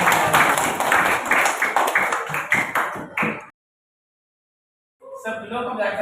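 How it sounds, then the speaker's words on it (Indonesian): Schoolchildren in an Indonesian classroom clap together in a dense, lively burst of applause lasting about three seconds, then a short silence before a voice begins talking. "Tepuk tangan kita semuanya."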